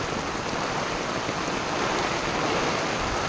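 Heavy monsoon rain pours down steadily in Mahabaleshwar, a dense, loud and constant hiss with no break and no voices.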